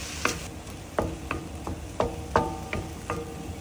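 Ground pork with onions and garlic cooking in hot oil in a pot for picadillo soup, stirred with a utensil: a series of sharp scraping and knocking strokes about every half second over a faint low sizzle, with no talking.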